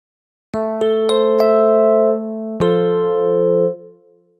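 Electric piano notes with a bright, bell-like tone: four quick struck notes, then a sustained chord that rings and fades, played alone.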